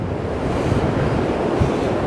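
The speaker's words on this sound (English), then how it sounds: "Can you hear the sound of the water? It's extremely strong." Rushing river water runs strongly beneath a metal suspension bridge on the trail toward Everest Base Camp, a dense, constant roar filling the scene loudly and evenly with no voices.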